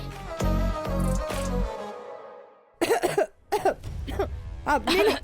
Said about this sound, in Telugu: ఇంతకు ముందు దగ్గింది మేమే